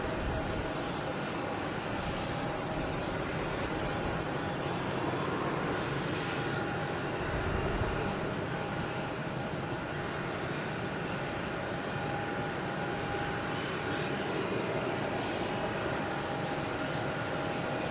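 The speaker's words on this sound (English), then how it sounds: "all these planes are taking off" Jet airplanes at Logan Airport at night give a continuous distant roar of engines as they take off, a steady rumbling wash that lasts throughout with no voices.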